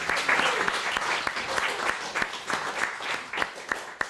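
Applause for singers at an evening singing session held both in person and over Zoom: a steady wash of many hands clapping close by, with sharp individual claps standing out, no voices over it.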